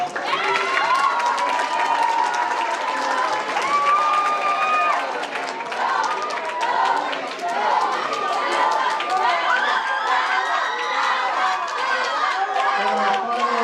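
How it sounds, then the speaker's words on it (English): An audience at a student awards ceremony applauds and cheers continuously, a dense wash of clapping, shouts and crowd chatter filling the whole stretch. "And a big round of applause for our extemporaneous speaking winners."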